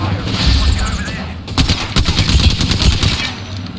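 Rapid gunfire in the Apex Legends video game, a dense string of close, loud shots over a busy game soundscape, with a short lull before a second burst.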